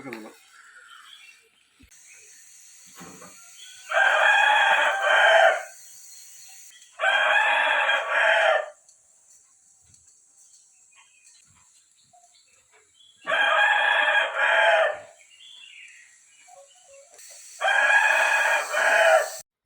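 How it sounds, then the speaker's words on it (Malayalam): A young black rooster of the Kadaknath type crows four times at a village home in the forest, with long, clear calls spaced several seconds apart over quiet background insect hum. "അവൻ കൂകി തെളിഞ്ഞു വരുന്നതല്ലേ ഉള്ളൂ അതുകൊണ്ടാട്ടോ അങ്ങനത്തെ സൗണ്ട് കരിങ്കോഴി പൂവനാണ്"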